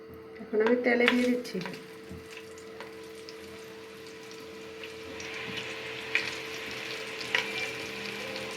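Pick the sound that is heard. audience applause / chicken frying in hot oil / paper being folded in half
chicken frying in hot oil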